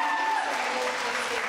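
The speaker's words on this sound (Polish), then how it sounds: "Dużo brawo." An audience at the Le Strade della Musica festival applauding, a brief, steady wash of clapping from many hands, fairly loud and close.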